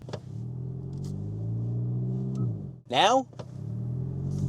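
Hyundai i30N idles with a low steady rumble, then revs sharply in a brief rising surge before settling back to idle, while a person talks over it.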